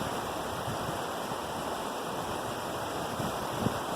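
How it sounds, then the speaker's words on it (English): Gooseberry Falls waterfall flowing, a steady, full roar of rushing water heard from nearby, even and unbroken throughout with no voices. "you guys can take a look at the falls behind us."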